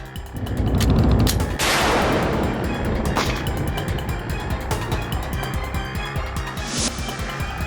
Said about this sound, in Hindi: आप ही ने आर्यन पर गोली चलाई थी।